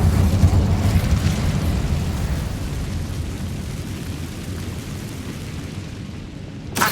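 Rumbling, roaring blast from Bombarda and Incendio spells in the Hogwarts Legacy video game, a loud sustained explosive rumble that slowly fades, with a brief burst at the end.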